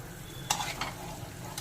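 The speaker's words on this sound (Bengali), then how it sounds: "আবারও নেড়ে এর সাথে একটু রান্না করে নেব" Spices frying in a pan for a pomfret fish curry, with a spoon stirring through them in two or three scraping strokes over a steady close sizzle.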